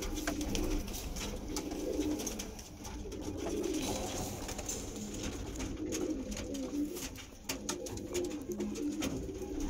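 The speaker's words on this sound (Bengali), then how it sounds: "এটা হচ্ছে আন্ধ্রা লাইনের পায়রা, আন্ধ্রা পায়রা" Andhra line pigeons coo in a steady, soft, low murmur that continues throughout, close by and with no talking.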